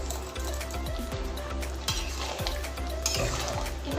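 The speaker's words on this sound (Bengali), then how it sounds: "এবার এটা ভালো করে মিক্সড করে দেব।" Cornflour slurry is being stirred into a chilli chicken gravy, giving a steady loop of soft wet scrapes and sloshing from a spoon in a pan, with faint sizzling underneath and no talking.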